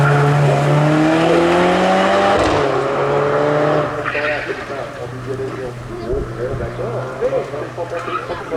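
A BMW race car on a timed hill climb, its loud engine whining and shifting up close before fading away, with a commentator talking over the sound.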